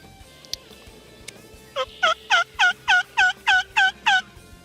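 Wild turkeys, young jakes, gobble in the woods in a rapid run of about eight loud, evenly spaced calls that start partway through and fill the latter half.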